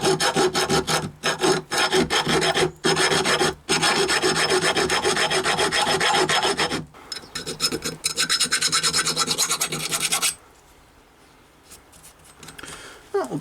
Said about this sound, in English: get a round file in there just to take out those couple of burrs